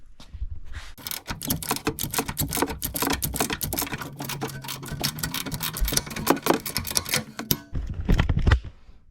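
An 18 mm ratcheting wrench turns a nut on an adjustable camber/toe arm of a BMW F80 M3, giving rapid clicking ratchet strokes in irregular bursts with a few louder knocks near the end, close and without talking.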